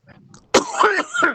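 A man's cough and throat clearing during an online presentation, a short low rasp followed by a louder harsh clearing burst, close and alone.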